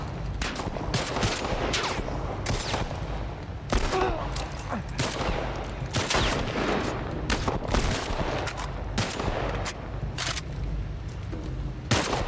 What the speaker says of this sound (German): Wenigstens schießen meine Kollegen ab und zu mal